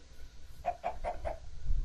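Chickens in a video game give four quick, evenly spaced clucks, fairly faint over a low background hum.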